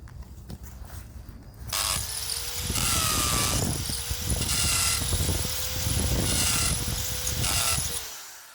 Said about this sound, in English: I just finished punching the hole with the masonry bit on my hammer drill.